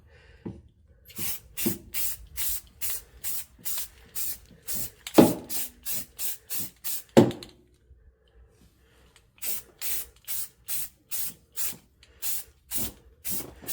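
Repeated short hissing bursts from a spray can, delivered in quick rhythmic pulses with a few pauses, close and fairly loud.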